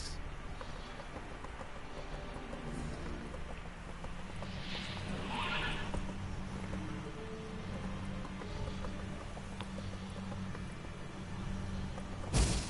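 A horse gallops with steady clip-clop hooves and whinnies in The Witcher 3 video game, a bright neigh rising midway over continuous low rumbling game ambience, with no talk.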